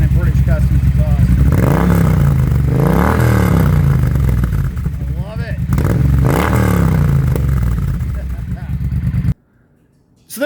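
A Triumph Bonneville T120 motorcycle fitted with a British Customs exhaust revs up repeatedly, loud and close, its deep engine note rising and falling in several sweeping blips before abruptly cutting to near silence.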